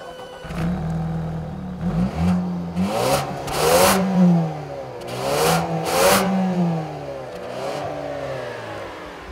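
A 2014 Ford Escape's turbocharged EcoBoost engine revs up and down repeatedly off road, rising and falling in pitch with a whooshing, whirring edge, loud and close.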